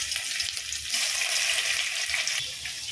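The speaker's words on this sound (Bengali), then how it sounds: "এবার আমি নুন আর হলুদ মাখা চিংড়ি মাছটা" Salt and turmeric coated prawns frying in hot oil in a kadai, a steady bright sizzle with faint stirring, no talk.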